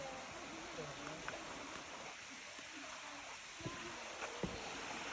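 The waterfall at St Nectan's Glen in Cornwall gives a continuous wide rushing roar in the background, with faint splashes and brief voices talking quietly over it.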